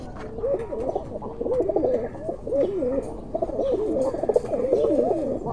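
Kuwaiti Teddy pigeon giving a steady series of soft, rolling coos, repeated in close succession and heard near and fairly clear against a light background murmur.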